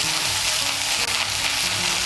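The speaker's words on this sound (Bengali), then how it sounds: "রসুন বাটাটাকে মিশিয়ে নিয়ে একটু ভেজে নিয়েছি।" Garlic paste fries in hot oil with a loud, dense, continuous sizzle and faint stirring scrapes, close up and without talk.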